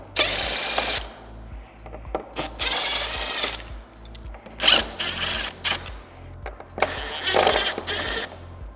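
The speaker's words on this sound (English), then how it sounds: "I prefer to use a drill." A power drill removing screws from a Harley CVO motorcycle whirs in short repeated bursts, starting and stopping several times at close range, with clicking mechanical noise between runs.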